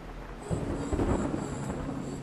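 Thunderstorm sound from a music video: a low, rumbling roll of thunder swells after a quiet start and lingers as a steady, moderately loud wash with faint rain-like hiss, no voices.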